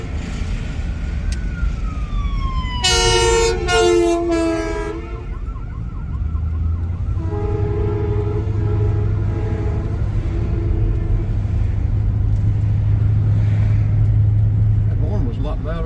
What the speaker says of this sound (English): That horn was a lot louder than the siren